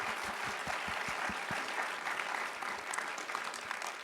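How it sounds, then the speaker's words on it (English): Audience applause at a wildlife accelerator pitch event, a dense steady clapping from a sizable crowd that holds evenly for about four seconds. "Round of applause."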